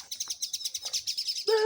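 Birds chirp outdoors in a quick, repeating series of high tweets, fairly close and steady, with a louder, harmonic call breaking in at the very end.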